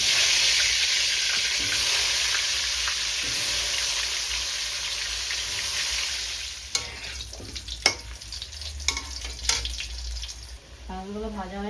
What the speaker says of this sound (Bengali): এবার একে একে আলুগুলো দিয়ে দেবো।